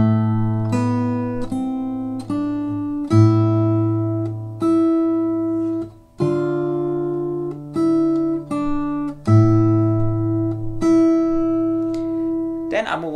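A fingerstyle acoustic guitar plays the simple beginner melody of Polish Dance, a steady run of plucked single notes over repeating bass notes, close and clear with no talking.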